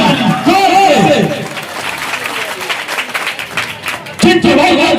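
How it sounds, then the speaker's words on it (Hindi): A crowd at a political election rally applauds, loud clapping rising under someone speaking over a microphone, then fading and returning in a fresh burst near the end. "स्वागत करें, जोरदार ताली बजाइए, जोरदार ताली"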